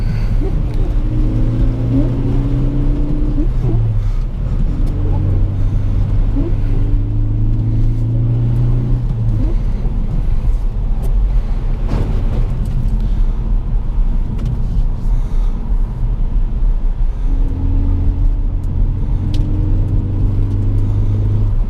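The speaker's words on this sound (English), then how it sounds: "I always loved the way the ST sounds with the induction noise it has from the 4-cylinder EcoBoost." A 2017 Ford Focus ST four-cylinder EcoBoost turbo engine drones continuously with a rising and falling whooshing induction note, heard from inside while driving on snowy roads, loud and steady throughout with no talking.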